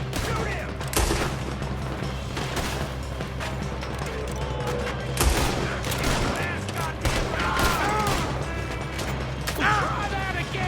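Rapid bursts of gunfire from the video game Red Dead Redemption 2 fill a dense, busy combat scene, with repeated loud shots and mechanical clatter and voices calling out over the action.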